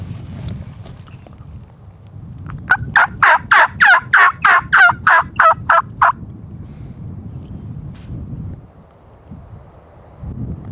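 A wild Merriam's turkey gobbles from far off, a rapid rattling burst of about a dozen pulses, faint against steady outdoor wind noise.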